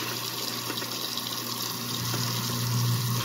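A kitchen garbage disposal grinds ice cubes to sharpen its blades while tap water runs into the sink, giving a continuous churning rush that stays steady and swells slightly toward the end.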